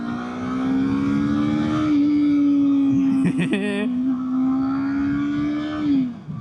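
A 2024 Kawasaki Eliminator motorcycle engine hums steadily while riding, a close, even drone with a brief rise in revs partway through before settling and easing off at the end.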